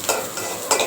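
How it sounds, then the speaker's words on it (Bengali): Garlic frying in a pan sizzles loudly and close, with a couple of sharp stirring scrapes of a utensil against the pan. "রসুন ভাজি করতেছি।"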